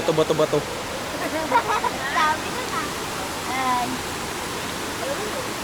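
Steady rushing of a river tumbling over rocks near Taytay Falls, Majayjay, Laguna, a constant broad roar with people talking over it.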